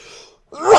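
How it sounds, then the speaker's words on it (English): A single sharp sneeze: a brief inhale, a short pause, then a loud explosive burst close to the microphone. "Trying not to sneeze into my microphone"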